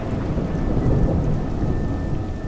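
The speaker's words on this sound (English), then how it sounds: "It's raining." Steady rain pours with a low rolling rumble of thunder in the video game Juggler's Tale, a dense continuous wash of sound with no talk over it.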